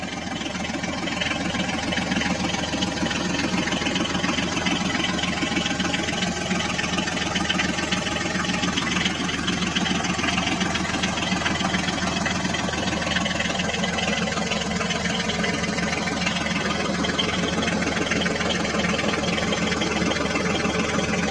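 An HMT toy tractor's engine drones steadily without pause, a constant mid-pitched motor hum as the tractor sits stuck in mud, loud and close throughout.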